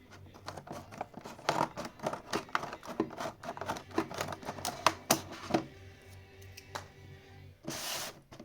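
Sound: scissors cutting open packaging

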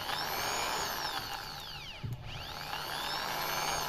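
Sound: Nagasaki electric drill running slowly with speed control

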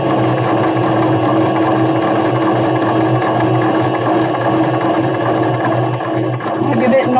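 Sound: sewing machine stitching a buttonhole in satin

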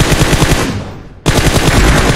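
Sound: gunfire in a video game (battle royale)

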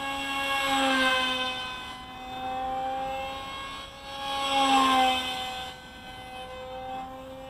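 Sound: radio-controlled F-22 pusher jet model flying

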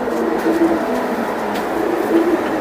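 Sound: Kasuri pigeon released

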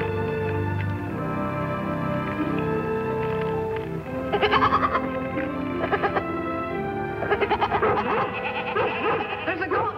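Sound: goat bleating

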